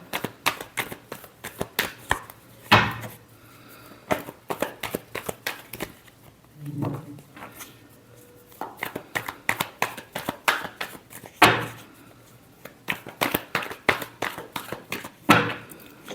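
Tarot cards being shuffled by hand, rapid bursts of crisp riffling and flicking in quick runs separated by brief pauses and a few louder slaps, close and alone without speech.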